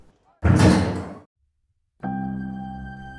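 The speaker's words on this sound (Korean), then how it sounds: "그는 그 가게 안으로 문을 열고 들어갔죠." A door creaks and thuds open at the entrance of a flower shop, a short loud knock-like burst followed after a pause by a ringing, sustained tone like a door chime or bell.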